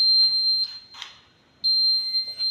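A building fire alarm system under an installation test sounds as a loud, steady high-pitched electronic tone that cuts off for about a second, then resumes just as loud.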